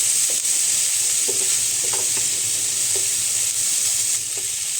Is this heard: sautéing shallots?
yes